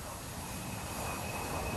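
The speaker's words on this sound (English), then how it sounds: "the advantages of this high bypass ducted fan engine is that this engine is real quiet when it's running" Steady broadband jet roar from the high-bypass turbofan engines of an A-10 aircraft, a continuous even wash with a thin sustained whine, moderately loud and alone.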